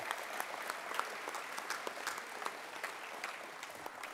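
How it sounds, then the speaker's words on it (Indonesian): Steady applause from an audience at a formal award ceremony, dense clapping with no voices over it, holding at an even level throughout. "Sekali lagi mari kita tepuk tangan, Pak."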